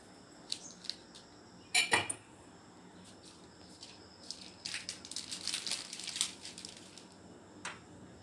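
Hands pat and flatten sweet kachchayam dough for Diwali, with soft, scattered slaps and a louder cluster of squishy pats near the start and again toward the end, all close and quiet with no talking.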